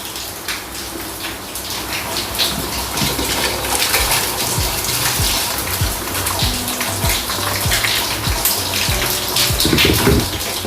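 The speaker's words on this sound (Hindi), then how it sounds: "मैं अभी डालने लगा हूँ इसमें चावल।" Rice poured into a pot of water for Kashmiri biryani gives a steady, loud gushing splash with bubbling and small knocks throughout, close by and without talk.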